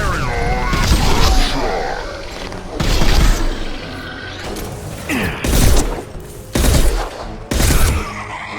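Defense tower gunfire in the video game Mass Effect 2, loud repeated bursts of shots and booms in several separate volleys, with game voices and effects speaking between them.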